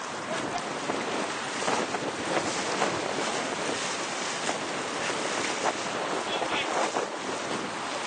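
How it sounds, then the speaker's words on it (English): Strong wind of about 20 mph buffets the microphone at an outdoor model sailboat test by open water, a loud continuous roar and rumble with gusty surges and no break. "And the wind is really strong now."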